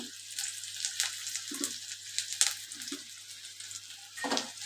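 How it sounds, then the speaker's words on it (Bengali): Chopped onion and green chilli frying in a pan for egg chowmein: a faint, steady sizzle with a few soft clatters of stirring, quiet and close with no talk. "পেঁয়াজ কুচিটা দিয়ে লাল লাল করে ভাজবো"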